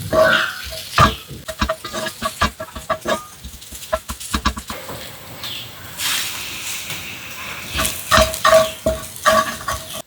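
Cooked rice being stirred into a spiced masala with curry leaves in a pan, for squid stuffing: repeated scraping and clattering strokes with a soft sizzle underneath, close and fairly loud, no talking.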